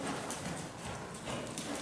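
Horse hooves clip-clopping steadily during a riding lesson, a continuous rhythmic patter close by, heard alone without talk.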